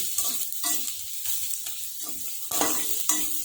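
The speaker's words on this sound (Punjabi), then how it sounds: "ਪਿਆਜ਼ਾਂ ਨੂੰ ਆਪਾਂ ਦੋ ਤਿੰਨ ਵੇਰੀ ਹਿਲਾ ਦਵਾਂਗੇ" Onions and garlic frying in a pan, stirred in repeated scraping strokes over a bright continuous sizzle, close and fairly loud, with no talking.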